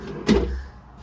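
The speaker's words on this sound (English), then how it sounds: "We've got these soft close drawers." A soft-close drawer in a converted campervan slides shut with one short, muffled thud that settles gently. The sound is close and quiet, set against a low room hush.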